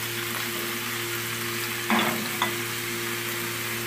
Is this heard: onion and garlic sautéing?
yes